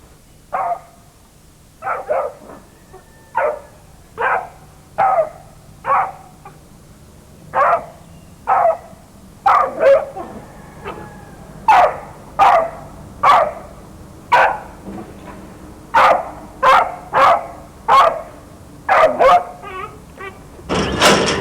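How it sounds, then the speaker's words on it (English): A rabid dog barks aggressively in a long series of loud, close, evenly spaced barks, about twenty in all, with a steady rhythm and no voices over them. "Provoked and unprovoked aggression typify the rabid dog."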